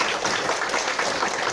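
An audience clapping to welcome a speaker at a church gathering in Barranquilla, a steady, full burst of many hands at middling distance with no speech over it.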